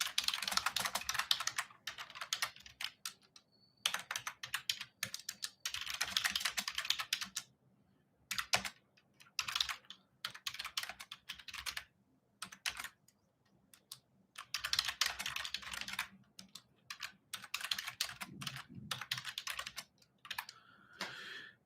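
Someone types on a computer keyboard in quick bursts of clicking keystrokes separated by short pauses, close and clear, with no talking.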